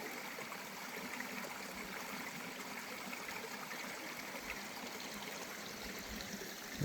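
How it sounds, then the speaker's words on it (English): A small stream runs beneath a bridge, a steady, faint broadband rush of flowing water, continuous and unbroken with no voices. "There's something about the sound of running water."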